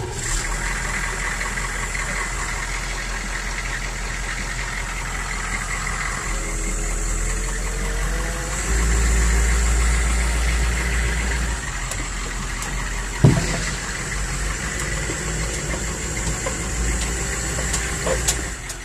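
A Humvee engine idles steadily at close range, a low continuous rumble with a faint vibrating drone that holds nearly unchanged, broken once by a brief sharp knock.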